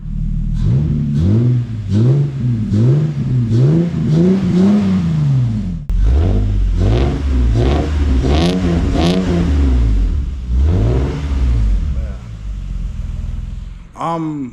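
A Lexus GS300 engine with its old exhaust revs over and over in quick, rising pulses, a throaty rumble with a short pause before another run of revs.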